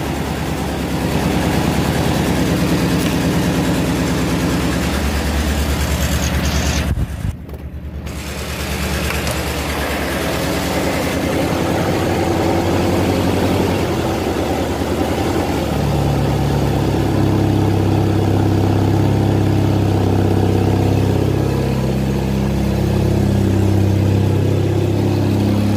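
A Polaris Sportsman 700 ATV engine runs steadily while warming up, a loud, close, continuous idle with a brief dip in the middle and a slightly rising pitch later.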